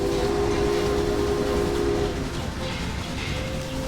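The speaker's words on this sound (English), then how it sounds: "You can also hear the whoa still, like you still get the enjoyment of the whistle up here." Railway Empire video game train: a sustained whistle tone over the heavy rumble of a rolling train, the whistle fading around midway as a higher tone rises while the rolling continues steadily.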